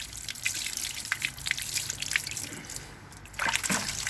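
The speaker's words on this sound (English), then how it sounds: "I'll go ahead and rinse this bucket" Hose water trickles and splashes into a bucket of saltwater aquarium sand outdoors, a soft running flow with scattered drips and a brief louder gush near the end.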